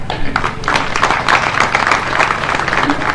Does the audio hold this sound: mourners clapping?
yes